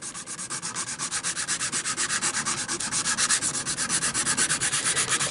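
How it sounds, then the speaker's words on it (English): A coarse sanding stick is rubbed back and forth across wood to rough up a weathered texture on a model flatcar, making fast, steady rasping strokes in an even rhythm, close and continuous with no talking. "I'll now take a coarse sanding stick, and I'm going to start roughing this across like this."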